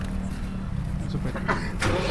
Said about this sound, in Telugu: మేము లైవ్గా ఈ స్ప్రే చూపిస్తున్నాము ఒకసారి స్టార్ట్ చేయి